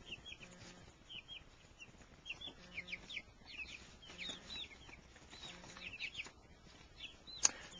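Hens cluck and chirp in short bursts inside a coop on a rainy day, with several birds calling at moderate distance and one sharp, louder squawk near the end. Nobody speaks.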